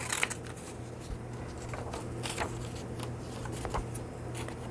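Scissors cut the frail pages of an old book, making quiet, close crisp snips and paper rustles spread irregularly throughout.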